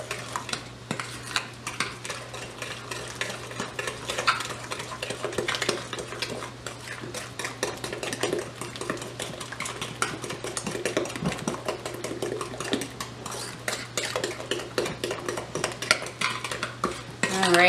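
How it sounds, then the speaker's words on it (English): Cookie dough with plenty of vanilla is stirred in a bowl for cereal cookies, a steady scraping and clinking of utensil against bowl that runs continuously and close, with no talk. "And again, mix this quite well."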